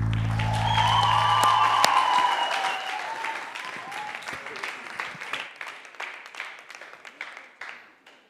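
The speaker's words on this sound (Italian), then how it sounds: "Accoglietelo con un grande applauso." Audience applauding at a live rap concert, loud and dense at first under a fading music chord, then thinning into scattered claps and tailing off over about eight seconds.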